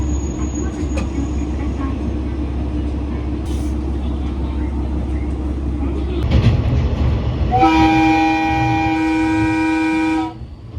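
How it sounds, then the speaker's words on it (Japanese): Aboard a JR Etsumi-Hoku Line local train near Echizen-Tōgō station, a steady low engine and rail rumble runs throughout, then a loud, sustained horn blast sounds near the end before cutting off. "先ほどからかなり頻繁に 警笛を鳴らしておられますが"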